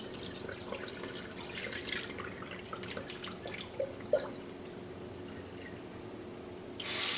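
Salted cod drained of its soaking water after a refrigerated desalting soak, with soft scattered drips and trickles running steadily throughout, one sharper splash near the middle, and a louder gush of pouring water at the very end.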